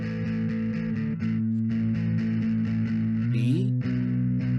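Distorted electric guitar power chords ring out in sustained, buzzing strums, shifting to a new chord about a second in and sliding up to another near the end, with no talking over them.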